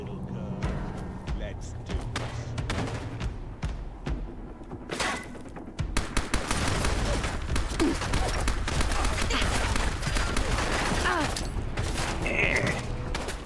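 Gunfire and grenade explosions in the Fallout London video game, with bursts of shots and thuds at first, then a dense, loud barrage of rapid firing and blasts that continues to the end, with a voice over parts of it.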